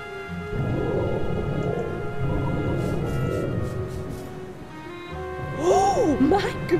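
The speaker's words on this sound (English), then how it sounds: "That's thunder, all right. And it's nearly upon us." Thunderstorm with rain, a low sustained rolling rumble of thunder over a steady wash of rain, with excited speaking voices rising over it toward the end.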